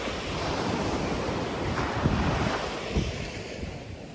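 Ocean waves wash onto a beach on a calm morning. The surf makes a continuous soft roar with gentle swells, and wind rumbles across the microphone. No one speaks.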